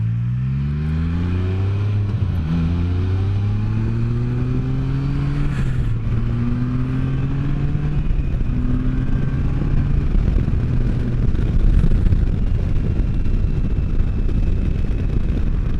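A 2015 Can-Am Spyder three-wheel motorcycle ridden on a road, engine loud and close as it accelerates through several rising gear pulls with shifts between them, then settles into a steady cruising drone with wind noise.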